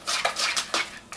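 A utensil scrapes and clinks in a bowl as raw almonds are stirred into banana bread batter, with several quick, close strokes at a soft level and no speech.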